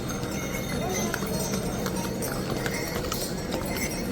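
Horses carry pilgrims along the mountain trail to Kedarnath in Uttarakhand, their hooves clip-clopping in a steady, busy rhythm over the path. A constant murmur of voices and bustle from the trail runs underneath.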